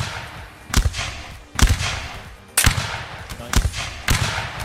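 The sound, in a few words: musket ripple fire volley in the video game Mount and Blade Warband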